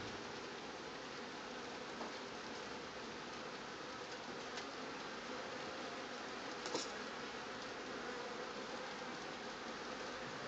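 A steady, dense hum of many honeybees buzzing close by around an open hive, continuous and even throughout with no talking.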